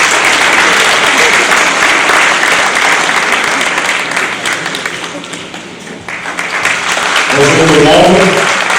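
An audience at an association's inauguration event applauds loudly and steadily. The clapping fades briefly, then swells again, and a voice starts speaking near the end.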